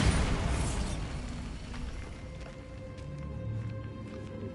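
A Bombarda explosion spell in Hogwarts Legacy bursts loudly at the start, then a rumbling, crackling debris tail fades slowly over several seconds with no talk.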